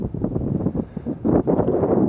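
Wind buffets steadily around a sailing boat near Stavoren, a continuous loud low rumble with gusty swells and no voices.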